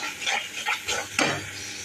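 Onions softened in a pan get stirred with added coriander, red chili and turmeric powder for Burma karela, giving a few scraping stirs over a soft, steady sizzle up close.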